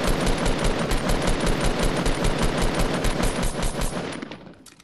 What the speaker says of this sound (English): Fuck him, let's shoot.